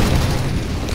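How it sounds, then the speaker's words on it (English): A flashbang grenade goes off in a video game, giving a loud, close, low booming burst that fills the whole brief moment. "Fire in the hole. Flashbang."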